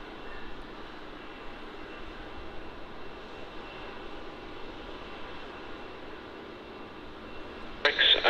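An airplane engine drones steadily at Melbourne Airport, a broad continuous roar at moderate distance, with a brief sharp burst of noise at the very end.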